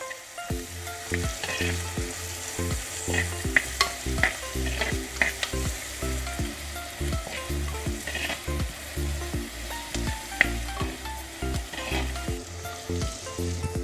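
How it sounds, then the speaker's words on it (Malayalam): Curry leaves and green chillies sauté in oil in a pan for a prawn and drumstick curry, a steady loud sizzle punctuated by rhythmic spatula scrapes and knocks roughly every half second, no speech. "പിന്നെ കുറച്ച് കറിവേപ്പില ഒന്നും കൂടി ഒന്ന് വഴറ്റി കൊടുക്കാം"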